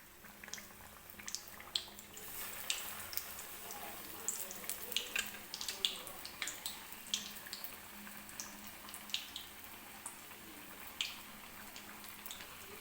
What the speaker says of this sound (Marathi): हा वडासुद्धा मी तळण्यासाठी टाकणार आहे